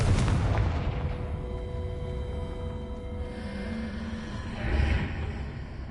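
Confringo spell explosion in the Hogwarts Legacy video game: a sharp blast opening into a rumbling boom that decays, followed by a second whooshing burst near the end, with no talk.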